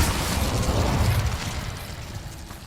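The Incendio fire spell is cast in Hogwarts Legacy, a loud whooshing burst of flame that rumbles near and then fades out.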